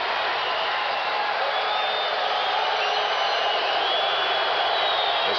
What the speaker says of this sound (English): The stadium crowd revs up